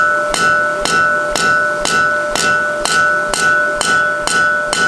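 Mild steel bar struck with a hammer to taper it for a forge-welded collar, about ten evenly spaced ringing blows, close and loud, with a faint metallic ring between strikes.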